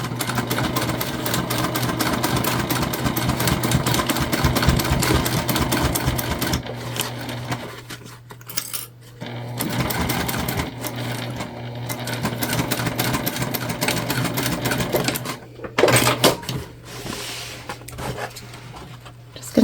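A sewing machine stitches a tote bag in rapid, steady mechanical bursts that run loud at first, drop to quieter gaps and rustling, then pick up again in short runs.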